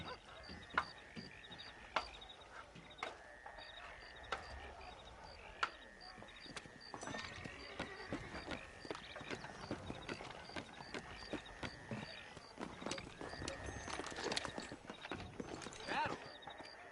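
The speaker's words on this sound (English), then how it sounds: "Do you see those horses to the left by the building across the street?" Horse hooves clip-clop in the video game Red Dead Redemption, set on a street in Blackwater, as a quiet series of irregular hoof knocks with a few sharper thuds, along with faint background activity.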